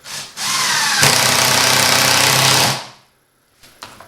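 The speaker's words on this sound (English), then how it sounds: "And just run a screw in it." Power drill running a screw into wood while building a dunk tank bucket frame, a loud close motor whir of about two seconds rising in pitch as it bites, then stopping, followed by faint knocks.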